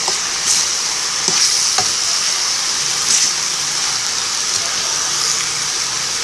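Sliced banana heart fries in a pan with a loud, constant sizzle while a utensil stirs it slowly, giving occasional soft scrapes and knocks up close.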